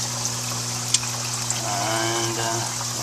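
Water trickles steadily from the return line of a hydroponic bubbler system set up with Dutch buckets in a garden, a soft continuous flow over a constant low pump hum, with a couple of faint clicks.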